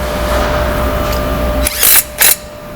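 A power tool tightens a bolt on a frozen wing lock of a draper head, giving two short, loud whirring bursts close by against steady background noise.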